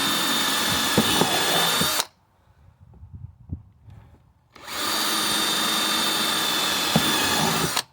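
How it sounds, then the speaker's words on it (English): A power drill whirs loudly for two seconds while marking lines on a car part, pauses amid faint handling noises, then runs again steadily for about three more seconds. "draw lines down the sides of this thing with our drill"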